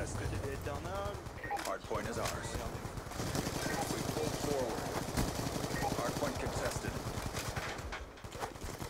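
Rapid video-game gunfire rattles in dense bursts with grenade blasts mixed in, loud and continuous throughout, with a commentator talking over the shooting.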